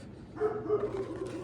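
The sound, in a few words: dog barking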